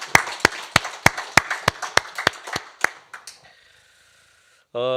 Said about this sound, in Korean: 자신을 위한 박수 우리 한번 감사합니다